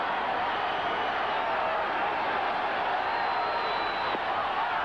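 Crowd noise at a Cubs baseball game against the Cardinals with the bases loaded, a broad steady roar of many voices holding loud and even throughout.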